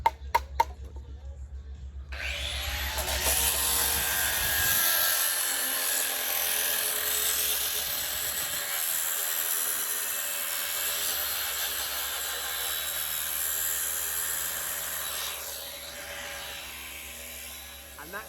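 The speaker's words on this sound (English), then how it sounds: "Grinding nuts." A power tool grinds off nuts while a garden room base frame is built, a harsh sustained screech and whine running steadily for about fifteen seconds, close and loud, with a low rumble early on.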